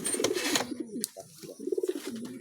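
Male King pigeon cooing close by, a few rolling coos in two bursts with a short pause between, loud and clear with no talk.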